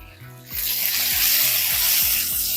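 Onion sautéing with turmeric powder in a hot pan: a quiet start, then a loud, sustained close sizzle with a few low knocks from stirring.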